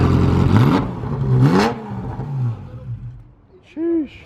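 A modded muscle car leaving a car show revs its engine, a rising roar that swells twice and then fades, with a short high-pitched squeal near the end and steady outdoor crowd noise beneath.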